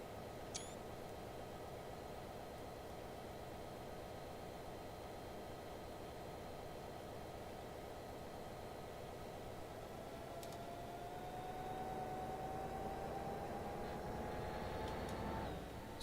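A diesel locomotive idles in a warm state in a train simulator game, a steady droning rumble with faint tonal whine that holds level throughout and swells slightly louder near the end.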